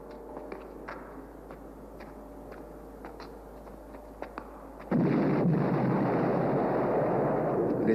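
Explosions on the lunar surface as a television sound effect: scattered sharp pops and thuds, then a sudden loud, sustained rumbling roar that takes over the second half.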